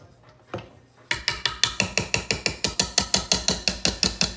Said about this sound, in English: Dumping off the excess batter off my whisk attachment.